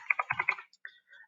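Fast, crisp keystrokes clatter on a computer keyboard in a quick burst of about six taps, then a pause and a few lighter clicks, close and clear in a quiet room.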